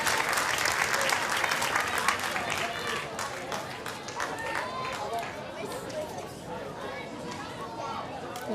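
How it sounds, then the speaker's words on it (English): Crowd at the Sam Kerr Football Centre applauding during a Perth Glory versus Central Coast Mariners women's A-League match as an injured player gets back up, scattered clapping under a commentator's voice. "And a big round of applause at Sam Kerr Football Centre for Grace Johnston back on her feet."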